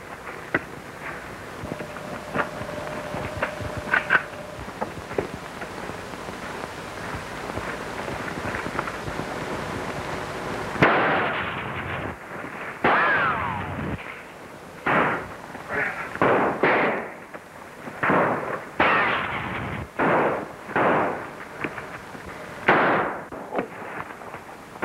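A volley of gunfire from a 1935 serial film shootout: after a windy, rumbling lead-in comes a loud burst, then a rapid irregular string of sharp shots and cracks over a thin, hissing old soundtrack.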